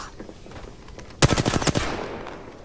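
Automatic gunfire in the Apex Legends video game: a sharp burst of rapid shots lasting about half a second, loud and close, followed by fading echo over quiet game ambience.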